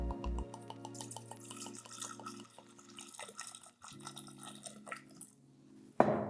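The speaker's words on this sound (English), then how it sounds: "I love these because it prevents wine from spilling in your bottle, and it just creates a really pretty pour" Wine trickles through a pourer disc into a glass in a quiet, close stream with light drips and faint glassy tones, ending in a sharp clink.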